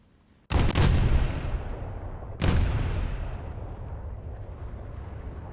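Naval guns fire shells at a destroyer in a video game, two heavy booming shots a couple of seconds apart, each trailing off into a long rumbling decay.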